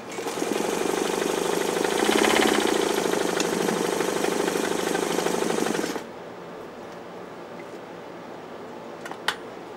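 A vintage sewing machine runs loudly and steadily for about six seconds with a rapid mechanical rattle, then stops, leaving a quiet room with a faint click.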